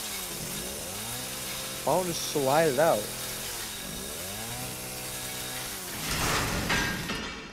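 A chainsaw revving and cutting in the horror video game Resident Evil Biohazard, a steady droning engine with rising and falling revs and a harsher grinding burst near the end, with a voice talking over it.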